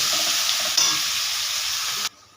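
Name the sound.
onions frying in hot oil after fish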